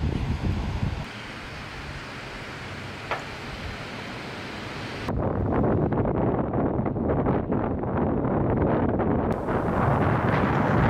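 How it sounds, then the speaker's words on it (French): Wind blows during a bicycle ride on a narrow strip of land between the Pacific and the Caribbean in Central America. It starts as a faint hiss, then turns into a louder, steady rush over the microphone. "À partir de là, le vent ne nous quittera plus."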